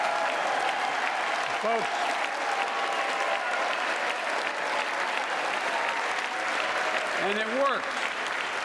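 Audience applause during a State of the Union address, a sustained broad wash of clapping from a large chamber crowd that carries through the whole stretch, with a speaker's voice briefly rising over it twice.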